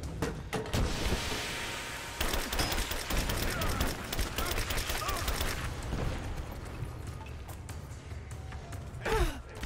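Enemy gunfire in Rise of the Tomb Raider, rapid bursts of automatic shots in dense volleys with brief pauses between them, close and loud, with some breathy vocal sounds mixed in.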